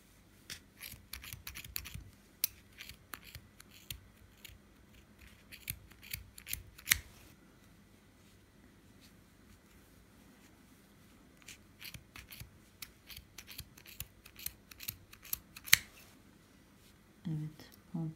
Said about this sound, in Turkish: Şimdi bu tarafı kesiyorum. Sonra bu tarafı keseceğim arkadaşlar.